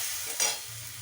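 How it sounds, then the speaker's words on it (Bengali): Spices sizzle and fry in a pan with a little water while a utensil stirs them, giving a soft, steady hiss and one brief louder scrape near the start. "এবার আমি এটাতে একটু জল দিয়ে দেব, মশলাগুলো এভাবে কষিয়ে নেব।"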